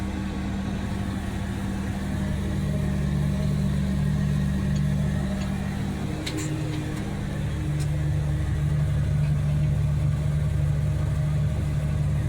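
A tractor engine runs steadily during planting with a deep, droning rumble, constant and close, with a brief clatter partway through.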